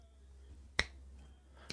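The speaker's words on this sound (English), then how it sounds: "Which finger do I snap my fingers?" Two crisp finger snaps, middle finger against index finger, sound close and sharp against a quiet low room hum, spaced about a second apart.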